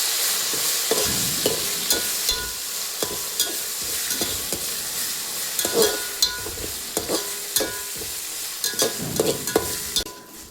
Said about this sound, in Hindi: अभी इसका आवाज़ सुनो, करी लीव्स का, ये ऐसे सूखे पत्तों जैसा आ रहा है